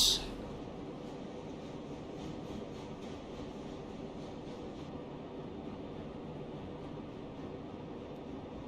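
A Mason Bogie steam locomotive hauling a full train toward an ironworks in the railroad game Railroad Online, a steady rolling rumble with rhythmic wheel clatter that holds at a constant moderate level, after a brief sharp burst at the start.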